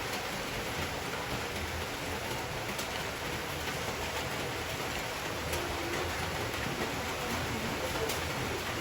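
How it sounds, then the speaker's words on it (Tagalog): Steady, dense rain pours down with no letup, a constant loud hiss lasting the whole time. "Lakas ng ulan, ha?"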